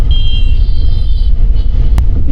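Road traffic on the Meerut bypass highway heard on a winter motorcycle trip from Ghaziabad toward Haridwar: a loud, steady low rumble of passing vehicles and wind, with a brief sharp knock near the end and no talk.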